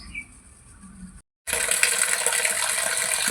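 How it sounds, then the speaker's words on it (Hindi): A full water tank on farmland overflows, water gushing and pouring down in a loud continuous splash after a short quieter stretch and a brief cut. "हमारा टंकी भर चुका है और पूरा पानी नीचे आ रहा है भरने के बाद।"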